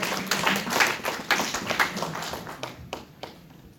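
A church congregation claps and applauds to acclaim the word of God during an evangelical sermon, a short burst of mid-distance clapping that fades out over a few seconds.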